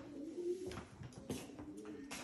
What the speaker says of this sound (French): Ils entendent des oiseaux.